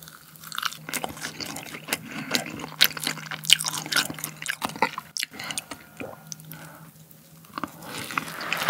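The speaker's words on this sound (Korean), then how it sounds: "오늘 한우 차돌육회랑 깍둑육회, 그리고 성게알, 감태, 그리고 새우를 먹어봤는데요" Someone eats Korean raw beef yukhoe, both thin-sliced brisket and cubed, with sea urchin roe, gamtae seaweed and Jeju shrimp, making close, wet chewing and squishing sounds with soft bites in an irregular rhythm, without talking.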